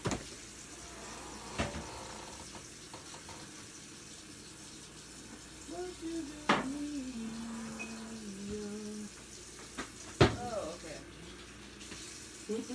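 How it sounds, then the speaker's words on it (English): Tea pours from a teapot into a teacup at home, a faint trickling stream that rises in tone as the cup fills, with a person talking around it. "now I'm pouring some tea here"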